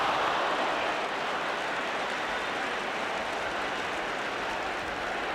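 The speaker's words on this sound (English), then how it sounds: "So there's applause for Osgood for the way he chased it on that one." A football stadium crowd at a Chelsea v Arsenal match applauds striker Osgood, a dense, steady wash of distant clapping and crowd noise that holds even throughout with no clear voices on top.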